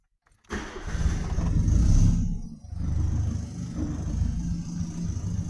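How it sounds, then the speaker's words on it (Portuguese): A cold carbureted car engine cranks briefly, catches on the first try, revs up loudly, then settles into a steady, close rumbling idle. "Eu vou dar uma partida no carro pra vocês verem como o carro pega bem."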